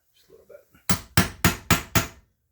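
Five sharp, evenly spaced hammer blows ring out close and loud while a nut flange is staked into a recess on a front-wheel-drive manual transmission, after a brief soft voice at the start.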